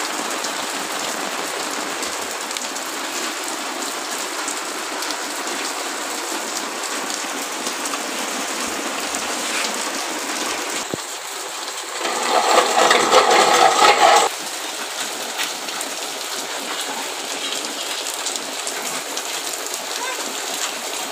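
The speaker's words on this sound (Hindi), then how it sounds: "और ये देखें एकदम से बारिश स्टार्ट हो चुकी है।" Rain pours down steadily in a village, a continuous even hiss of drops striking surfaces, growing briefly louder and heavier midway before settling back.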